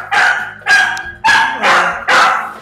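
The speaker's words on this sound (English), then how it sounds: "Pleasant, quiet little puppies." Puppies bark in five loud, close, evenly spaced yips and barks with short gaps between them, heard alone without talk.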